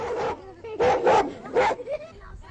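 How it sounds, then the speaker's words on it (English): An old dog near a tent barks in three or four sharp, close bursts with whimpering yips between them, loud and clear against a quiet background. "an old dog who's seen better days guards his master's tent nearby"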